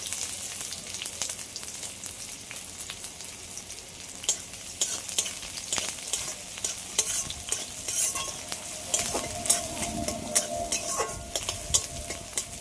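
Finely chopped onions fry in hot oil, a constant close sizzle broken by repeated clacks and scrapes of a utensil stirring the pan, with no one speaking.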